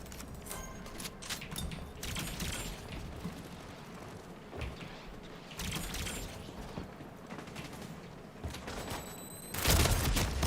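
A grenade explodes in a shooter video game, a sudden loud burst near the end after a stretch of faint clicking and mechanical game noise, with no talking.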